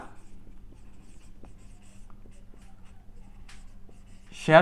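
Chalk or pen scratching out an accounting entry on a board during a Bengali accounting lesson, faint intermittent strokes close by in a quiet room, ending in a short louder scrape.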